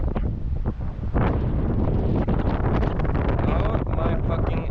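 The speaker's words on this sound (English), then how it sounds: "It's so windy" Strong wind buffets the microphone at a high outdoor exploring spot, a loud continuous roar with gusty surges throughout.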